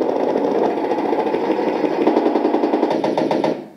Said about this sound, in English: Machine gun 2. Machine gun 2.